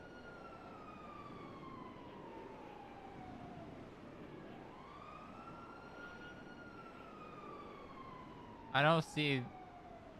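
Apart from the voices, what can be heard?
police siren in GTA V roleplay video game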